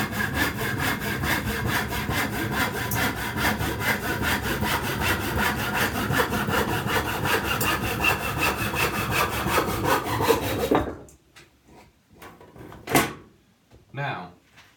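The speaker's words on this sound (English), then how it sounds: "I can bring the blade back up and start cutting straight again" A hand saw cuts straight through a piece of wood with a steady, dense back-and-forth rasp lasting about eleven seconds, then stops, followed by a few faint knocks and shuffles nearby.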